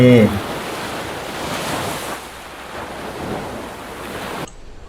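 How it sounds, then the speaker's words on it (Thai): Steady roar of sea waves washing in, a broad rushing surf with gentle swells, close and fairly loud, cutting off abruptly near the end. "เสียงคลื่นทะเล"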